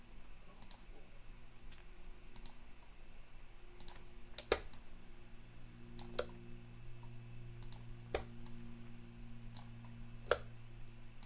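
Sharp computer mouse clicks while retouching a photo in Photoshop, about eight isolated clicks spaced a second or two apart, close and quiet over a low steady hum with no talking.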